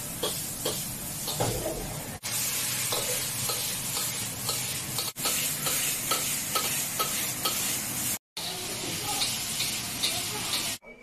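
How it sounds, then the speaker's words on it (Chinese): Vegetables stir-fried in a wok in a home kitchen, a steady loud sizzle with repeated scraping and stirring strokes of the spatula, briefly cut off by short gaps. "我赶紧炒菜"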